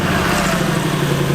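A DT-75 crawler tractor engine runs loud and close outdoors in mild weather near a swamp, giving a steady, dense diesel clatter with a low throbbing hum and no pauses.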